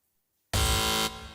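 A quiz show buzzer on a TV game show sounds once, loud and close, a sustained electronic tone lasting about half a second that starts abruptly after silence and then tails off.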